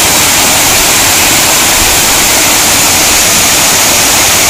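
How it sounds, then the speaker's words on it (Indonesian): Heavy falling water pours in a constant, powerful roar close by at the second Wasai waterfall, steady and unchanging with no other sounds. "Air terjun kedua."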